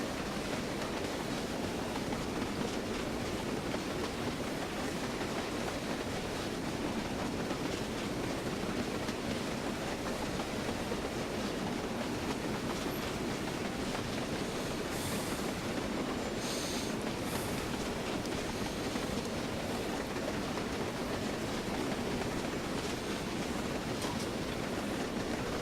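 Train hauled by a 3F Jinty steam locomotive, a steady rumbling roar of running wagons and rails, even and continuous throughout, heard from on board with no talk.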